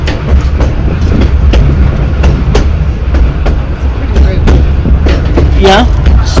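A Cumbres and Toltec railroad train rolling close by, with a steady loud rumble and rhythmic clicking of wheels on rail joints, one brief squeal near the end, and people talking over it.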